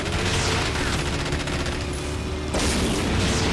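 Enemy gunfire in the first-person shooter Rage, a dense continuous fusillade of rapid shots with booming impacts, loud and close throughout, with a brief shift in texture near the end.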